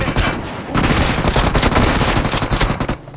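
Rapid automatic gunfire from a PUBG Mobile match plays on an iPhone 11, loud and dense, bursting into a sustained barrage after a brief opening volley, then cutting off abruptly.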